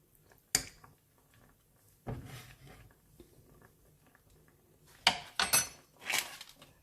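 Instant noodles and vegetables being stirred in a pan on the stove, with scattered clinks and scrapes of a utensil against the metal, a couple of sharper knocks and some soft rattling, close by and without talk.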